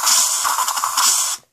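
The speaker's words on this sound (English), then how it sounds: "I'm using air freshener to fix it up a little bit." Air freshener aerosol sprayed onto slime in a steady hiss of about 1.4 seconds with faint mechanical clicks, ending abruptly.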